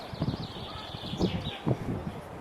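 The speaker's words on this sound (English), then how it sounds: "Listen to those dicky birds." Small birds chirp and tweet in quick, high calls over a soft outdoor background, fairly close and continuous.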